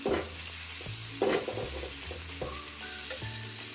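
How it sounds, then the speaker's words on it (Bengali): Thick spice paste for chicken kosha sizzles steadily in a hot pan over low gas, with a spoon scraping and stirring it in short repeated strokes. "আমি কিন্তু গ্যাসটা মোটামুটি কম করে মশলাগুলোকে সুন্দরভাবে ভাজা ভাজা করে নিচ্ছি"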